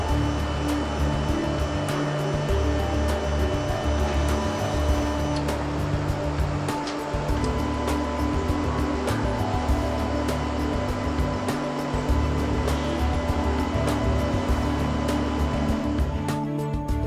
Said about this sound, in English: Magnetic stirrers are provided, which can be rotated at speeds up to 1000 RPM.